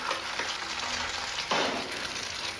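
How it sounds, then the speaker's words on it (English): An egg fries in a hot frying pan in a 1987 anti-drug commercial. Close, steady sizzling crackles alone, with a fresh louder burst of hissing partway through. "the 1987 egg in a frying pan commercial"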